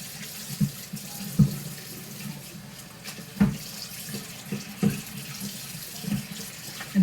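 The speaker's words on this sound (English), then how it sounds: "I just rinse them and set them to the side and come back later and wash them" Dishes being rinsed under a running kitchen faucet give a steady close hiss of flowing water, broken by soft irregular clunks of dishware, with no talk.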